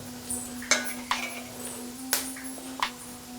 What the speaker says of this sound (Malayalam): എന്നിട്ട് ജസ്റ്റ് ഒന്ന് ഇളക്കുക.